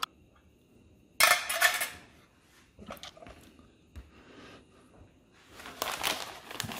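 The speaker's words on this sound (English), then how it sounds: "Give that a stir." Spoon stirring a pouch meal from a 1993 British 24-hour ration pack, a burst of scraping and rustling clatter, then quieter intermittent scrapes and a final busier flurry, close and fairly soft.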